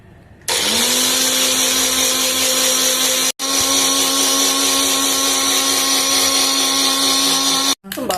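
A blender whirs steadily as it grinds egg whites for an omelette, a loud, even motor drone that starts abruptly, stops for a split second partway through, then resumes before cutting off near the end.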